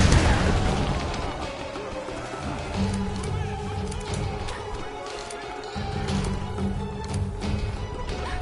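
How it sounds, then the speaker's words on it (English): A rolling explosive barrel blows up in Tomb Raider (2013), a loud burst followed by crashing debris and continuing game noise, with no speech over it. "That's a rolling exploding barrel"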